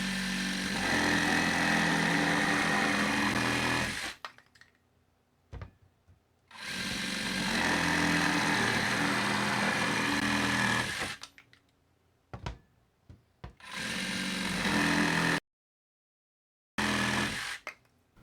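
A compact reciprocating saw cutting through wood, sped up, gives loud, fast buzzing bursts of several seconds each, broken by short silent gaps between cuts.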